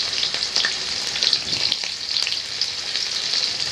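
Chopped onions fry in hot oil with green chillies and five-spice seasoning, a bright, crackling sizzle broken by a few soft stirring knocks, close and continuous with no talking.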